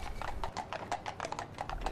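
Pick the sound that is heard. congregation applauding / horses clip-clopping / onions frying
horses clip-clopping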